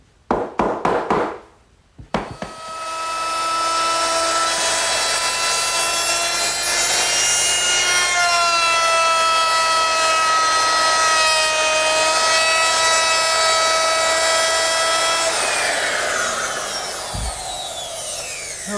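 Router with a 1/2-inch radius round-over bit cutting the top edges of a wooden Shaker washstand: a few short motor bursts, then a sustained high whine under load for about thirteen seconds before spinning down, close and loud.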